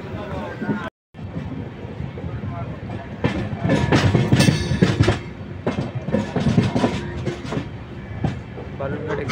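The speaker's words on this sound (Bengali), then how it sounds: "বালুরঘাট এক্সপ্রেস একলাক্ষী জংশনে অ্যারাইভ করছে 2 নম্বর প্ল্যাটফর্মে।" Balurghat Express passenger train arriving at platform 2 of Eklakhi Junction, a steady rumble with clattering wheels and brakes building in loudness, with a brief dropout near the start and background voices on the platform.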